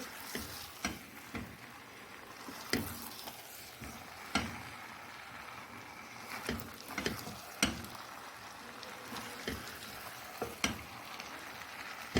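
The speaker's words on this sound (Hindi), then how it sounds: "अब 2 से ढाई मिनट तक मैं इसे ऐसे ही अच्छे से भून लूँगी" Chicken coated in masala fries in a pan for a restaurant-style chicken gravy, giving a soft steady sizzle broken by repeated spatula scrapes and taps at an irregular pace.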